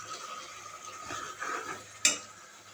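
Country chicken curry is stirred in a pan, a soft spoon scrape with a light simmer, then one sharp clink of utensil on metal near the end, fairly quiet and close.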